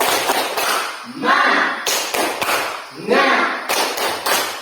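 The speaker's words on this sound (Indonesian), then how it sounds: "Kita tepuk semangat dulu." Classroom of pupils performing the 'tepuk semangat' rhythmic clapping chant, loud group claps in patterned bursts mixed with children's voices chanting along.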